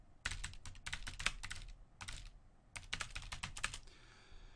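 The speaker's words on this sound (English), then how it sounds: "And I could type in some subjective findings here." Fingers type on a computer keyboard in quick, uneven bursts of close clicking separated by short pauses, with no talking.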